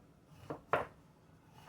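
A knife cuts yellow squash into rings on a board, three separate soft chops spaced apart, close and quiet with no talking.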